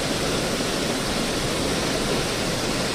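River water rushing downstream in a village setting, a dense, steady roar of flowing water that stays constant and fairly loud throughout, with no voices.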